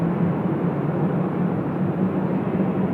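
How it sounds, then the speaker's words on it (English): A continuous low jet rumble from an Air Canada airliner at Sydney Airport, steady and broadband, heard at a distance with no voices over it. "you can hear Air Canada there in the background"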